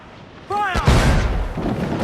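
Ship cannon fire in Assassin's Creed 4 Black Flag, one deep boom erupting right after a shouted command and rolling on briefly under the game's voice.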